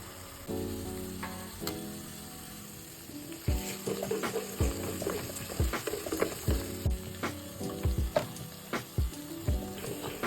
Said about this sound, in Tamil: பட்டை, கிராம்பு, பிரிஞ்சி இலை எல்லாம் சேர்த்துட்டு வெங்காயம் சேர்த்துட்டு நல்லா வதக்கிக்கோங்க